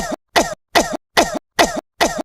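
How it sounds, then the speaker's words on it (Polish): Six evenly spaced harsh coughs, loud and close, each a short burst separated by brief silences, with no talk over them. "Ja ciągle kaszlę."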